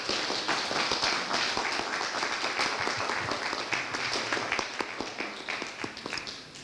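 Audience applause fills a gallery talk on photography in Cusco, a dense, steady wash of many hands clapping that holds loud throughout and tapers slightly at the end.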